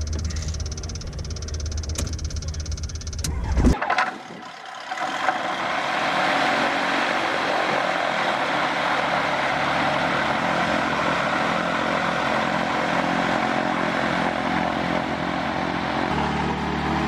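A light aircraft's propeller engine cranks over with a few coughs, then catches and settles into a loud, steady running drone close by, with no talk.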